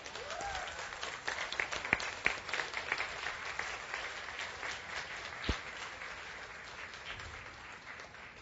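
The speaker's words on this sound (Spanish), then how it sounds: "espero que ese aplauso nos dure hasta la segunda venida del Señor" Church congregation applauding during a sermon, dense sustained clapping from a crowd with a few sharper individual claps standing out, moderately close and unbroken by speech.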